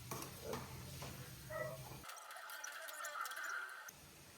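Chicken pieces coated in turmeric sizzle steadily in a pan while being stirred, a soft continuous frying hiss with faint scraping.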